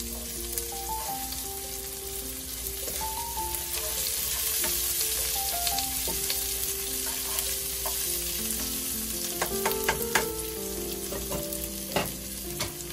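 Ginger fries in a pan for a Filipino crab-and-coconut dish with string beans and squash, giving a steady close sizzle throughout with scattered crackles and light spoon clinks toward the end, no voices.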